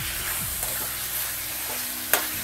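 Chicken pieces coated in ginger garlic paste frying over high flame for dahi chicken, a loud, steady close sizzle with one sharp utensil scrape near the end.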